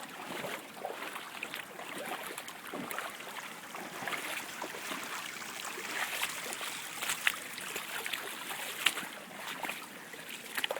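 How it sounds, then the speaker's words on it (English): Floodwater running off the moors and down through a typically English village, a steady broad rushing wash with frequent splashing and gurgling bursts, continuous and fairly close, with no talk. "Water comes down off the moors, down through the village"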